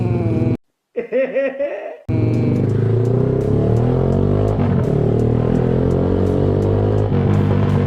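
A Kawasaki Z200 with an Austin Racing exhaust revs hard and crackles on throttle-off, loud and close, with a short laughing voice early on over the steady engine drone.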